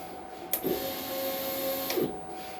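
Inkjet printer running a nozzle check, with a steady mechanical whir and two short clunks of the printhead moving about one and a half seconds apart, close and alone.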